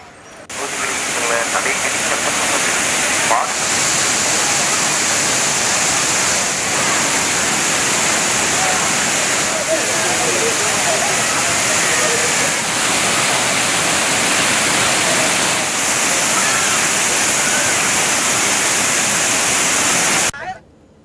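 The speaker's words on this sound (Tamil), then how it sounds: "திருப்பருப்பு அருவியில் நீர்வரத்து அதிகரித்துள்ளது" The Thiruparappu waterfall runs with increased flow, making a loud, steady broadband roar that continues unbroken for about twenty seconds and then cuts off abruptly.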